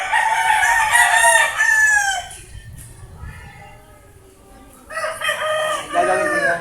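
A rooster crows loudly nearby, a long cock-a-doodle-doo, then a quieter pause before a second crow starts up.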